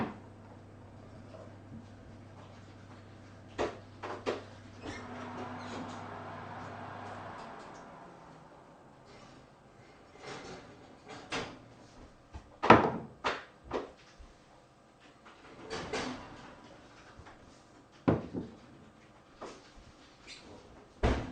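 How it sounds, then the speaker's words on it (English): Hot glass jars lifted out of an oven while making yoghurt: a scatter of sharp clunks and knocks of glass on a board and oven rack, irregular and close, with a low oven hum under the first few seconds. "I'm going to bring my jars out of the oven"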